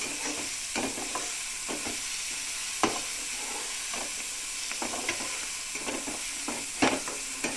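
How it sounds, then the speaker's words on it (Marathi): Capsicum, onion and tomato sauté in a pan for pasta, giving a steady close sizzle and hiss broken by sharp scraping stir strokes at irregular intervals. "शिमला मिर्च आपण आता परतवून घेऊयात."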